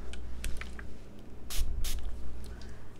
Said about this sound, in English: And I'm gonna spray it with water.